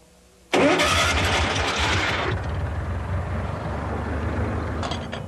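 A rented portable air compressor's gasoline engine pulls over and fires at about half a second, then settles into a loud, steady running drone, with the sharp starting burst easing after roughly two seconds.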